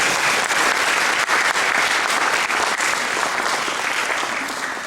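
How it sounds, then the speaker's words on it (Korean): A church congregation at a Sunday sending-off service in Frankfurt claps loudly and continuously, a thick, even wash of applause that carries through and eases slightly at the close. "우리 크게 박수로"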